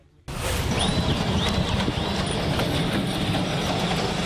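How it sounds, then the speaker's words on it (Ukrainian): Loaded freight trains roll past on the railway in a loud, steady rumble that starts abruptly, with faint wheel squeals riding over the continuous noise. "Проїхали три завантажені товарняки."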